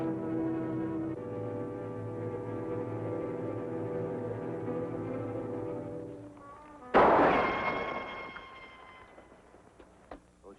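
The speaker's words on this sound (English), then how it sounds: "Those shots came from up there." A single loud gunshot rings out from above, following a stretch of low, droning background sound, and its echo fades slowly over several seconds in an outdoor Western setting, with no voices.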